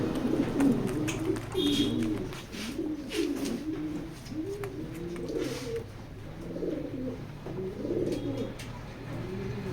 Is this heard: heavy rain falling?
no